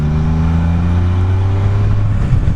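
Can-Am Spyder three-wheel motorcycle on the move, its engine droning loud and steady with a low rising hum throughout, no talking.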